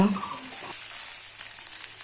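Ginger-garlic paste fries in hot oil, with a steady bright sizzle running throughout and a few faint stirring touches near the start.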